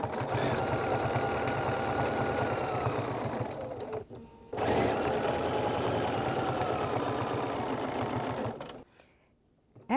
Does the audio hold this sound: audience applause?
no